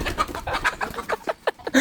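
A village rooster clucks in quick, agitated bursts as people try to catch it. The calls are close and loud, with short gaps between the clucks.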